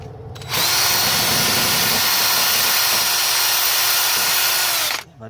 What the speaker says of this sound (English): So I drill just a bit